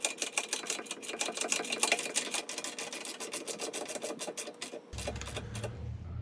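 Nuts and bolts being snugged up on the rear bumper cross member of a Jeep TJ, a steady run of quick, fine ratcheting clicks at close range, shifting to a lower buzzing tone near the end.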